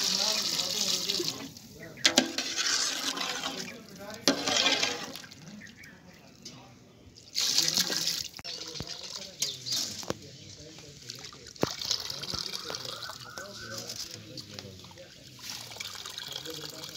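Water is poured from a jug at an outdoor village cooking spot, splashing and trickling in several bursts, with voices talking over and between the pours.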